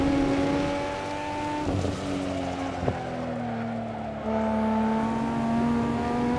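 A Nissan Skyline GTR R34 in Assetto Corsa at the Nurburgring, its engine droning loud and steady with pitch shifts as it changes gear and lets off, plus a brief tyre scrub partway through.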